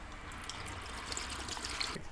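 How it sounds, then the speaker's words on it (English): Hot water mixed with KBS Clean poured into a Honda Interceptor motorcycle fuel tank, a faint, continuous trickling and splashing stream of liquid heard alone. "mix a quart of hot water with 1 quart of the KBS Clean"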